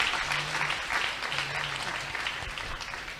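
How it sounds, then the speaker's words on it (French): A church congregation applauds to honor the Holy Spirit, a dense, steady wash of clapping that stays loud throughout, with a low voice murmuring briefly beneath. "Acclamez au Saint-Esprit"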